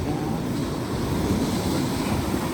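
Strong ocean waves surge and wash along a beach on Kauai, Hawaii, a steady broad roar of surf mixed with wind rumble, close and continuous throughout.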